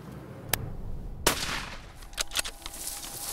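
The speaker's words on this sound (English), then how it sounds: "Okay, I'm gonna shoot." Rifle shots on a hunt in Uganda: a sharp crack near the start, then a louder close shot with a lingering echo through the bush, followed by smaller clicks and rustling, no talk.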